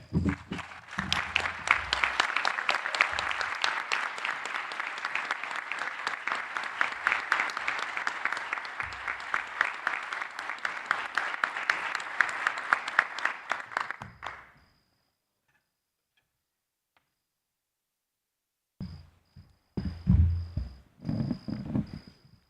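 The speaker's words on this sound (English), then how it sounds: "Can we give one more round of applause for Brother Williams?" A round of applause at an oratorical competition during a fraternity general convention, dense sustained clapping from an audience for about fifteen seconds, fading out, then a brief renewed burst of clapping near the end.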